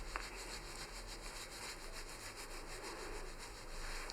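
Hands rub briskly over the scalp in a self-administered head massage, a soft, close, rhythmic friction swishing repeated steadily, faint and quiet with no talking.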